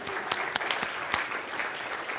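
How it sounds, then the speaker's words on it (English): A brief round of applause for a student in a classroom, a short steady patter of clapping hands with a few sharper claps standing out, lasting about two seconds. "Round of applause for Danielle."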